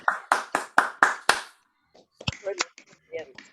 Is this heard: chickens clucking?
no